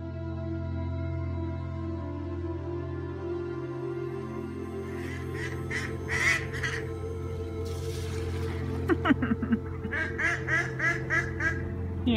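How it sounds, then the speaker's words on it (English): Ducks or similar waterfowl give short quacking and honking calls, first in a scattered cluster and then in a busier run of repeated calls, over a steady low hum, with no talking. "Yay for birds."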